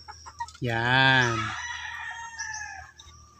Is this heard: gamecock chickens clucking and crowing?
yes